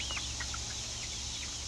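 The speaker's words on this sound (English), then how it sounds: "That one must be a rooster." Young chickens, one of them a rooster, make faint high chirps and peeps over a steady background hum on a farm during summer harvest, with no talking.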